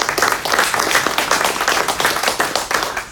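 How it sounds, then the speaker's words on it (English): An audience applauds at the 2018 BigInsights Data & AI Innovation Awards ceremony. The clapping is dense, steady and close, lasting the whole three seconds with no talk over it. "Let's applause for him as well."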